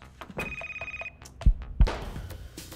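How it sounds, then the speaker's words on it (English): A telephone rings in the video game Knock Harder: a brief, bright electronic bell trill that stops after about a second, followed by a couple of dull thumps and some rustling. "Telephone ringing."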